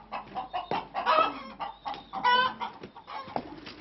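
Chickens cluck steadily and close by in a farmyard shared with a goat, with overlapping calls and a few higher squawks over a constant low background.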